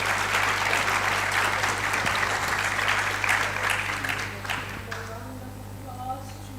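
A conference audience gives panelists a sustained round of applause, with dense clapping that fades toward the end over a steady low hum.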